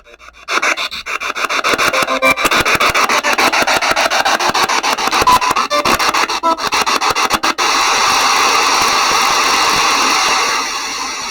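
Spirit box radio sweeps rapidly through stations, producing a continuous loud stream of choppy static and clipped fragments that steadies into a harsher hiss toward the end.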